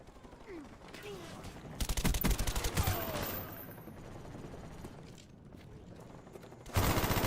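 Video game gunfight gunfire: scattered shots, then a loud rapid burst of automatic fire, a quieter stretch, and another loud burst at the very end.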